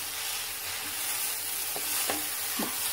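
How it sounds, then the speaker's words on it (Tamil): Drumstick flower and green gram thoran with grated coconut is stirred in a pan, a steady sizzling hiss with a few soft scraping strokes of the spoon near the end, close and without talk. "நல்லா அப்படி கிண்டி விட்டுருங்க."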